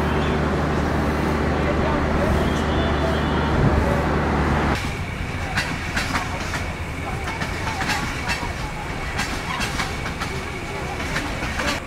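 Inside a crowded Bangladeshi passenger train, the Titumir Express between Rajshahi and Chilahati: a heavy, constant rumble of the carriage, then quicker rhythmic wheel clacks and rattling as the train rolls on.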